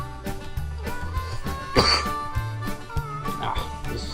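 A single harsh cough bursts out briefly over steady background music with a plodding bass line.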